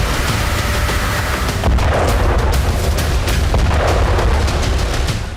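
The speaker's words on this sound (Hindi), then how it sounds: "मिसाइल से डोनेत्स्क के नोवोडोनेत्स्क में प्रहार किया।" Explosion from an Iskander missile strike in Novodonetsk, Donetsk, as in war news footage, a loud sustained roar with repeated heavy booms and rumbling blasts throughout.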